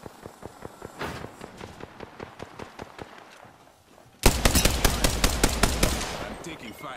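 Gunfire in Apex Legends: a fast patter of rapid shots and steps, then a sudden louder burst of close automatic fire that rattles on steadily and fades slightly toward the end.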